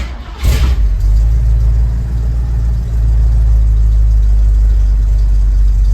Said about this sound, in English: There you go, it's idling.